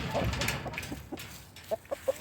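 Backyard chickens clucking in late afternoon, a run of short close clucks that grows sharper and more regular toward the end, over faint outdoor background.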